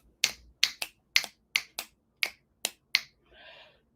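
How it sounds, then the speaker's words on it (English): Finger snaps, eight sharp crisp clicks in an uneven rhythm, close and clear over a quiet room, followed by a brief soft rustle. "I can snap."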